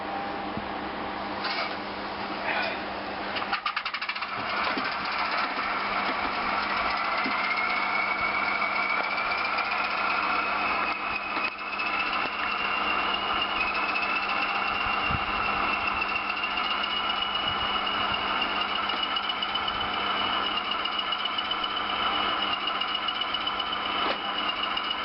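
A Hornby class 20 diesel locomotive fitted with a DCC sound decoder idles steadily, its low engine drone and faint mechanical whine running continuously and evenly throughout, with no talking over it.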